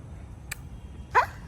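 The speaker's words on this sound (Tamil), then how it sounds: "அது பெரிய நாய் அது கடிச்சிரும்" A big dog gives a single short bark, fairly close and moderately loud, preceded by a brief faint click against a quiet background.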